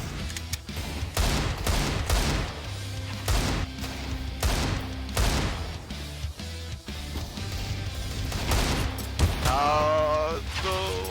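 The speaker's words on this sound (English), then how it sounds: "Why did I shoot?" Rapid bursts of close gunfire in a CS:GO match, dense volleys and single shots overlapping with booming impacts, steady and loud across the whole stretch.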